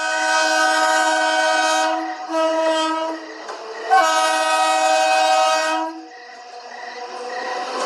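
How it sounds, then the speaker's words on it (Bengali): A train arriving at a station at night, its loud multi-tone horn blaring in long blasts separated by short gaps, close and dominant, with a faint rolling rumble beneath. "ওই ওই ট্রেন এসে গেল"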